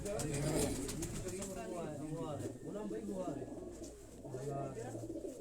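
Breeding pigeons, high-flying racing birds in a loft, coo in repeated throaty rolling calls close by, overlapping one another, while someone talks at the same time.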